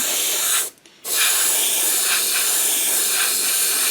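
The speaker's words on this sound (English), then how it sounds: "I'm just going to spray that entire section again." Black spray paint hisses steadily onto an Airfix Vulcan bomber model kit, close and loud, with one brief cut-off pause near the start before the continuous spray resumes.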